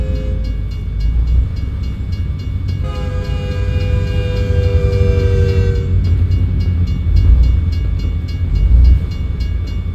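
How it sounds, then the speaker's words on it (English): A train horn at a level crossing in the video game American Truck Simulator blares in long sustained tones for a few seconds over a steady rumbling background of passing rail cars, fairly loud and near. "There's a train crossing there."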